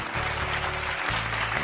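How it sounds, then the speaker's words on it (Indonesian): Audience applause at a property investment talk show in Jember, a brief wash of clapping over a steady low hum from the hall's sound system. "Boleh minta tepuk tangannya dong,"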